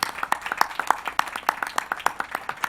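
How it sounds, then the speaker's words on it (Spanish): An audience at an anniversary event at a book fair claps to welcome a speaker: a loose, fairly quick run of individual handclaps that stays close and even for its whole length. "Un fuerte aplauso para don Diego, por favor."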